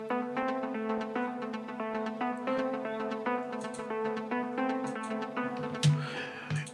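Two bright synth plucks, a Spire patch stacked with a Nexus patch, play a steady repeating melodic pattern in an Afro house track made in FL Studio, with sustained tones underneath and a brief swell near the end.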